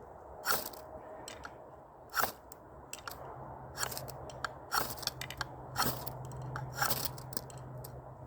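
Wood is scraped into a pile with a series of sharp, irregular scratching and crunching strokes outdoors. Each stroke stands close and distinct over a quiet background, and no one talks.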